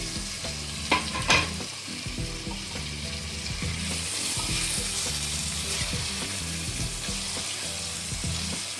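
Masala frying in oil for dhaba-style aloo gobhi while being stirred, a steady close sizzle with two sharp spoon clinks near the start and rhythmic scraping throughout, no talking.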